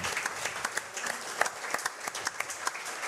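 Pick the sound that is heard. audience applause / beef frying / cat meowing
audience applause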